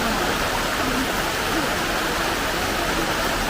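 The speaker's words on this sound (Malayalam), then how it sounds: "വെള്ളം കയറുന്നുണ്ട്, ടാങ്കി വീഴുന്നുണ്ട്, കുളത്തിൽ വീഴുന്നുണ്ട്." Water flows and falls into a tank and a pond, a loud, steady rushing splash that continues unbroken throughout.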